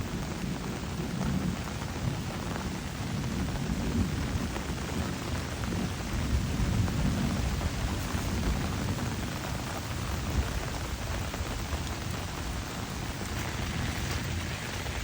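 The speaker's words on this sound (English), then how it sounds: "You've never seen rain like this." Heavy rain pours down outdoors beside a new pond, a steady dense hiss close by that holds at an even, loud level throughout with no break.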